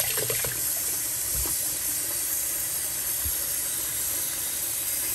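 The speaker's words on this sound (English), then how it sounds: "let me turn the water on and show you guys what I'm talking about" Kitchen tap running water into a sink while a whole chicken is being cleaned, giving a steady broadband hiss that holds evenly throughout with a few faint knocks underneath.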